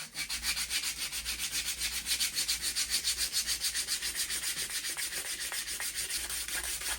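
Steady, rhythmic scratchy rubbing of 80-grit sandpaper by hand over wood, close up, in quick back-and-forth strokes with no talking.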